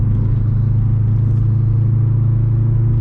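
A Subaru WRX STI's turbocharged engine drones loud and steady from inside the moving car, a low, even rumble with no revving or voices.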